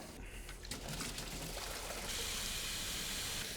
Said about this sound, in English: disconnect the coolant hose in the back of the head, put the garden hose in it, and see what comes out front